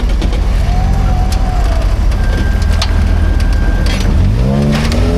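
An off-road vehicle at Rauch Creek revs its engine hard while being winched, a loud, continuous roar with a steady whine, the revs climbing sharply near the end.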